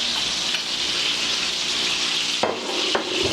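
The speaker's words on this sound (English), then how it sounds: "Now we're going to put the pork chop directly in the pan. And we're going to let it cook." A pork chop sizzles loudly and steadily in a hot pan, a dense hiss that runs throughout, with a couple of brief clicks near the end and no talking.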